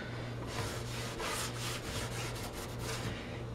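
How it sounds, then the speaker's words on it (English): A cloth rubs wax into a painted wooden chest with steady, close back-and-forth scrubbing strokes, a soft dry swishing that repeats in quick rhythm with no voices. "you're just going to take your wax and you're going to rub it in"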